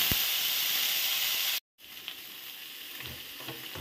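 Sliced ridge gourd frying in oil in a wok, a steady broadband sizzle that cuts out for a split second and then resumes, close and fairly loud with no talk.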